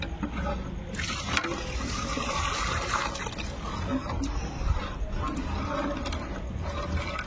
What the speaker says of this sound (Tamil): இப்போ தண்ணி ஆட் பண்ணிக்கிட்டு இருக்கா.